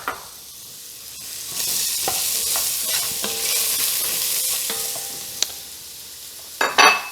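Onions and carrots sizzle steadily in a pan used for cooking veal paupiettes as it is deglazed, a close, continuous hiss with a few utensil clicks and a louder scrape at the end.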